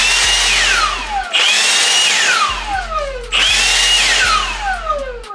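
Milwaukee M18 cordless leaf blower running on its high-speed setting, a loud steady whooshing roar that surges up twice in close succession, with no talking over it.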